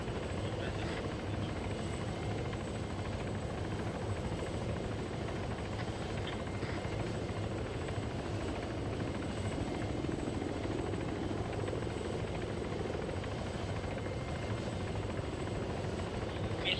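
Helicopter in the military video game Arma 3 flying with a steady, loud rotor drone that fills the whole stretch, while players talk over the top.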